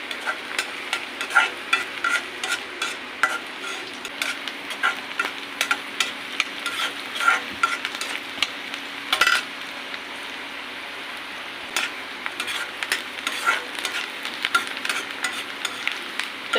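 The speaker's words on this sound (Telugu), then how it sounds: "ఇప్పుడు పచ్చిమిర్చి వేసుకుందాము. కలుపుకుందాము." Green chillies added to onions are stirred in a frying pan, giving a steady crackling sizzle with repeated scraping strokes of the spoon throughout, close and fairly loud with no talk.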